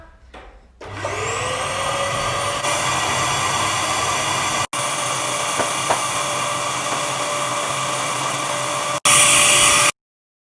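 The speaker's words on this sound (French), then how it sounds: "Donc, je vais l'aspirer" A vacuum cleaner runs steadily over a red carpet, a loud continuous whine and roar that starts up, holds, briefly cuts out twice, then jumps louder before stopping abruptly.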